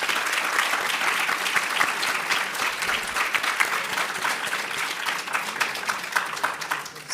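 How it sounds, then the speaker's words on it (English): An audience at an evening event honoring Palestinian journalists breaks into sustained applause, dense clapping continuing for several seconds before tapering off at the end. "I'd please just like to give both Wael and Youmna a big round of applause"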